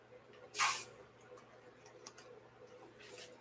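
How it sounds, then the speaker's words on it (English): A single short burst of WD-40 silicone spray hisses from an aerosol can near the microphone for about a quarter second, then fades to quiet room tone with faint ticks. "using the WD-40 silicone spray to release"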